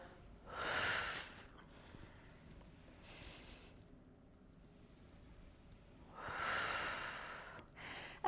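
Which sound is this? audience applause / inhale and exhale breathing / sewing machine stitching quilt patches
inhale and exhale breathing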